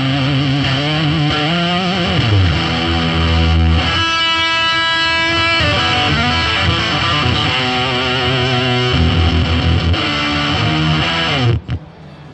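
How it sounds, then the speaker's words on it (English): Electric guitar driven through a cranked Plasma distortion pedal, loud and saturated, with sustained buzzing chords and a run of held notes that cut off abruptly near the end. "Nice distortion."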